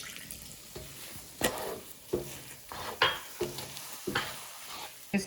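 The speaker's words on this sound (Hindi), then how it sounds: "तो मैं 1/4 कप पानी इसमें और डालूंगी" Water poured into a cooking pan holding a potato mixture, followed by a string of soft stirring scrapes and light sizzling bursts, close and quiet, without talk.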